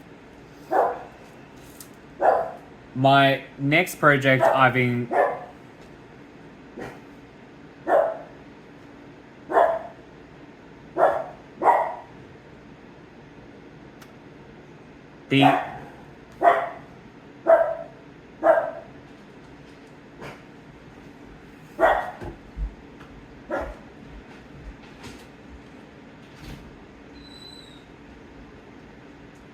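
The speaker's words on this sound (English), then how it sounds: "Oh, barky dog." A dog barks repeatedly, in short separate bursts spread over half a minute, with one quick cluster early on. The barks are moderately loud against a quiet room, and a voice begins briefly near the end.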